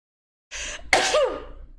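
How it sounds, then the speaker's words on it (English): A single person's sneeze, close and loud: a short breathy intake followed by a sharp explosive burst that trails off over about a second. "you should have sneezed in the mic"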